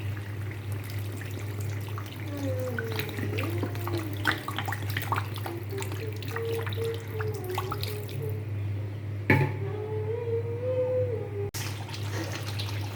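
Water is poured over cooked-down chicken masala before it goes into a pressure cooker, giving a continuous close splashing trickle over a steady low hum, with a sharp knock near the end.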